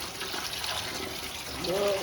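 Cold water poured over hot fried potato wafers, a soft steady splash and trickle of liquid under faint background noise.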